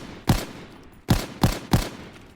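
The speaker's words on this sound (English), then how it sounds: "Yep, the AVS-36. It is a slow-firing automatic rifle" Four AVS-36 automatic rifle shots in Call of Duty, a slow-firing Soviet weapon: one sharp report, a pause, then three quick loud bangs in a row, each with a short booming tail.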